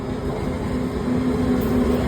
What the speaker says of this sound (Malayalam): WAP7 locomotive